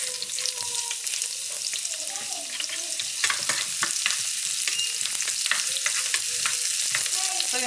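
Leftover pechay greens and salmon fry in a hot pan, a continuous sizzle with frequent scraping and stirring strokes, close and fairly loud, with no talking.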